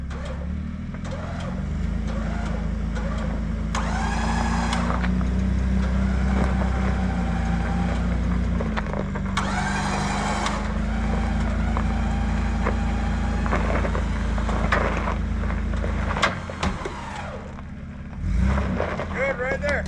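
A Toyota in four-wheel drive rolls forward with a steady engine drone that rises and dips as it moves, close by, with people talking over it and a brief pause near the end.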